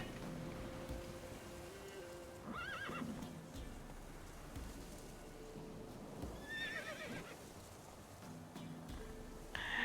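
A horse whinnies twice in The Witcher 3: Wild Hunt, faint against steady rain and a low background hum, with a third short neigh at the end.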